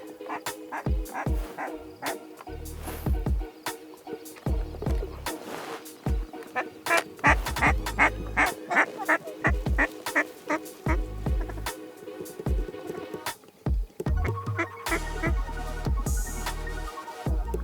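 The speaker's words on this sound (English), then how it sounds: "Kill those ducks." Ducks quacking during a duck hunt, a loud, busy chorus of rapid overlapping quacks in bursts. Dogs bark or yip among them close by, with pauses between flurries.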